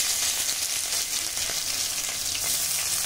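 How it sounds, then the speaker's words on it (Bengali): Sliced onions frying in hot oil with dried chilli and a little sugar, a steady close sizzle with faint crackles and no talking. "পেঁয়াজ খুব ভালো করে ভেজে নেব"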